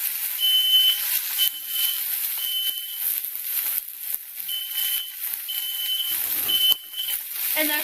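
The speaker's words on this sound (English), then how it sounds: "And there's my fire alarm going off." A home smoke alarm goes off in a kitchen while salmon cooks, sounding six evenly spaced high beeps over a steady hiss of frying and range-hood noise.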